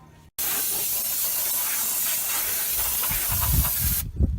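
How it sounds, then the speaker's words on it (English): A can of brake cleaner releases a loud, continuous hiss that starts abruptly, holds steady for about four seconds, then cuts off, sprayed on the front brakes of a 2006 Ford F-550. "grab a can of brake clean, and we're going to clean this whole area"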